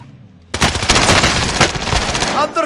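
Rapid automatic gunfire from the video game Call of Duty: Warzone erupts after a brief quiet moment, sustained loud bursts of shots and fusillade filling the rest of the clip up close.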